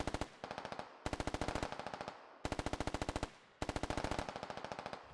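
Automatic weapon fire in the SquadOps shooter game comes in four sharp, rapid bursts with brief pauses between them. The shots are loud, close and crisp, and no voices are heard.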